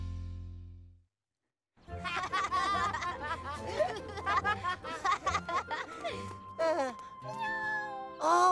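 A cartoon kitten meows in a string of high, expressive cries after a short pause, close and clear and mixing with lively animated chatter.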